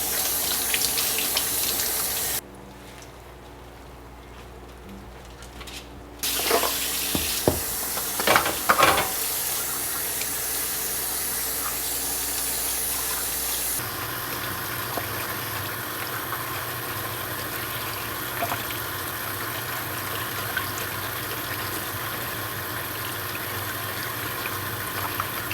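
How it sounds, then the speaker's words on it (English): Water from a kitchen tap gushing steadily over salted Napa cabbage as it is rinsed, with a brief quieter break, a few splashes and handling noises, then the constant rushing flow resumes, close and fairly loud. "I'm going to wash the salt off of this Napa cabbage"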